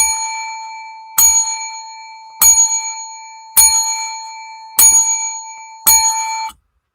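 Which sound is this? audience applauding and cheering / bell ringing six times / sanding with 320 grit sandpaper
bell ringing six times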